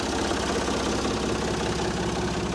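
A backhoe's diesel engine idles steadily on a farm during corn harvest, a continuous low rumble with a faint knocking pulse holding even and close throughout.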